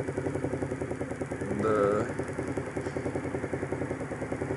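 A small carbureted engine idles with an uneven, loping rhythm, its RPM briefly surging and rising near the middle before settling back to a rough, pulsing idle.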